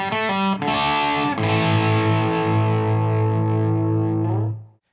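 Electric guitar through an ENGL Special Edition tube amp with heavy distortion, a few quick picked notes followed by a long sustained chord ringing out loud and close before cutting off.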